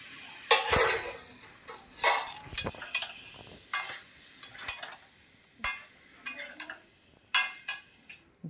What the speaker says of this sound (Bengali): ভালো করে নেড়ে ছেড়ে ভালো করে কষিয়ে নেব